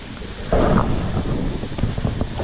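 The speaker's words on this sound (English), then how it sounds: "It's cooling off because it's raining." A steady rain shower hisses over a lake on a hot summer day during a crappie fishing trip, with a deeper rumble rising partway through and no voices.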